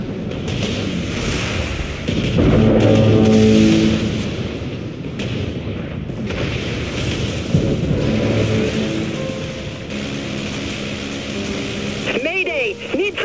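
Missiles burst against a warship in the naval combat game Dreadnought, heavy booming impacts and rumbling blasts rolling over a dense battle din, loud and close, with voices talking through the chaos.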